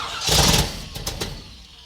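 A brand-new, never-fired crate engine in a Chevrolet Camaro muscle car cranks and catches in one loud burst that fades into a rough, settling idle.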